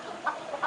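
Chickens being fed in their coop cluck softly, two brief clucks over a low steady background.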